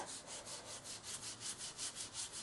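Foam applicator rubbed over paper to apply orange Adirondack ink for card making, a faint, soft back-and-forth scuffing in about nine even strokes, close and alone.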